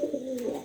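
Pet pigeons, including satin and German modena breeds, give a soft, close coo, a single low rolling call that lasts under a second.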